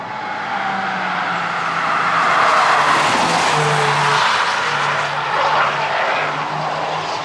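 Hyundai i20N passing at the Nürburgring: a broad engine roar that swells and fades at mid-distance, with steady gear tones drifting over outdoor ambience.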